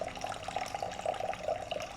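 Warm water poured into a bowl sitting on a kitchen scale for a pretzel sourdough loaf, a steady, close trickling stream that runs continuously without any talk.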